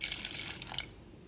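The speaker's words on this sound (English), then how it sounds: "we shall add water to this, very little" Water poured into a bowl of edible flowers for a flower drink, a close, moderately quiet splashing pour lasting about a second before cutting off.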